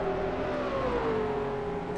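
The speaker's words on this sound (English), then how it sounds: "Gosh, the cars are so loud." Engines of 1956 race cars in the rFactor 2 simulator at Monza, a steady loud mid-pitched drone with a shifting whine, continuous for the whole stretch with no talk.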